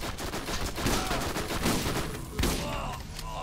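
Heavy gunfire from a big gun in the video game Borderlands, a dense sustained barrage of loud overlapping shots with a sharper burst near the end.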